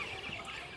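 Baby chicks of mixed ages, a brood of over 200 at a homestead, cluck and peep in a soft continuous chatter close by.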